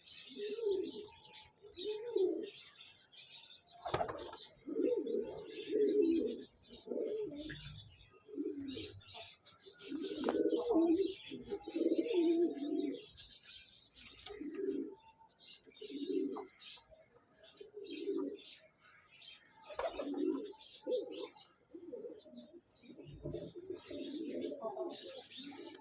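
Pigeons kept for sale at a pigeon club coo in repeated low, throaty bursts, close and fairly loud, with occasional chirps and a brief wing flutter between the calls.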